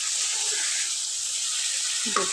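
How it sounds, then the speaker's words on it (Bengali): Turmeric, chili, coriander, sauce and salt fry in butter with onion and spice paste for a salted hilsa head and lati dish, giving a steady close sizzle with a brief stirring scrape near the end. "হলুদ মরিচ ধনে সস লবণ সবগুলো একসাথে দিয়ে দিয়েছি ভালো করে কষে নেবো"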